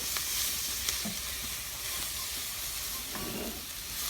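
Onions frying in a pan as the base for a pear, blue cheese and walnut risotto, a steady soft sizzle with a few faint stirring clicks, close and continuous with no voices.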